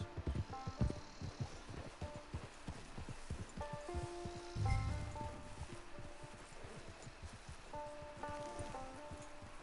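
A horse's hooves clip-clop rapidly and rhythmically over ground in the video game Red Dead Redemption II, a steady close gallop with faint rustling, no voices.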